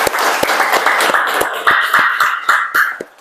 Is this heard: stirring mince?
no